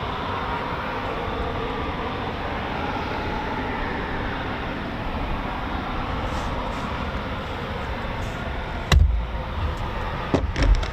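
Eurofighter Typhoon FGR4 jets taxi at RAF Coningsby with a continuous loud engine roar and rumble, and a few sharp bumps and clatters near the end.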